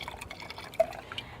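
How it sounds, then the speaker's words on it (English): Wine simmers in a pan on a Pit Boss pellet grill with soft bubbling and small irregular pops and drips, close and fairly quiet, with no voices. "I'm just going to let it simmer."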